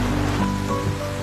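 Rain falls steadily outdoors as a continuous, even hiss with no voices over it.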